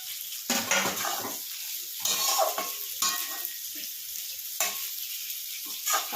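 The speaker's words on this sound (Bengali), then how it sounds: "হালকা করে ভেজে নেব।" Sliced onion and capsicum sizzle in a wok while being stirred, bursts of scraping and crackling frying noise coming every second or so with quieter hissing gaps between.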